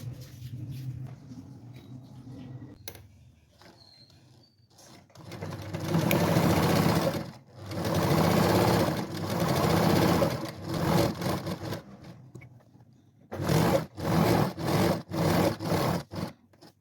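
Sewing machine stitching pockets onto tote bag fabric, running in several loud sustained bursts separated by pauses, ending in a series of short rapid stitching runs, close and without talk.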